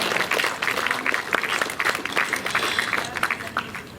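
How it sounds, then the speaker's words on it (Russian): Audience applause at an awards ceremony honoring medical workers, a moderate patter of many hands clapping with uneven bursts, fairly distant and a little thin, continuing steadily for several seconds. "Аплодисментами поздравляем."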